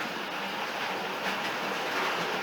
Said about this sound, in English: So it's taking the kind of vibrations from the track straight down and putting it straight onto these boards, and these are hollow, so they're going to make a lot of noise